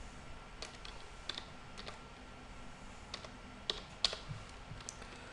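Typing on a computer keyboard while entering programming code, scattered light key clicks in short irregular bursts, fairly quiet and close with no talk.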